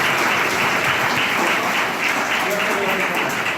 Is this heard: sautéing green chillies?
no